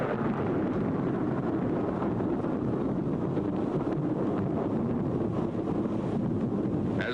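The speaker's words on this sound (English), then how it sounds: "Seconds later, the blast wave reaches the trenches." A steady, loud rumbling roar from an atomic bomb's blast wave sweeping over trenches, broad and unbroken with a wind-like rush through the whole stretch, no voices.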